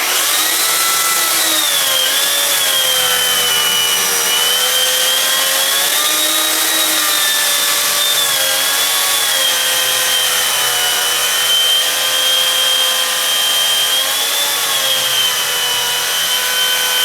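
A log is cut to length for bowl turning with a loud power saw, likely a chainsaw, running continuously close up with a steady whining tone that rises and dips slightly as it cuts.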